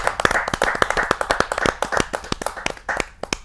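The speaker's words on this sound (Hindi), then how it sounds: "जरा जोरदार ताली के साथ हम उनका स्वागत करें।" Audience clapping welcomes a poet at a Hindi kavi sammelan, a lively burst of close, crisp handclaps with a quick, uneven rhythm.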